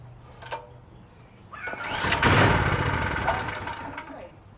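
PowerSmart PS44 3000W generator engine cranking and catching: a brief pull around half a second, then from about two seconds a loud, close, steady engine roar with mechanical rattle that holds to the end.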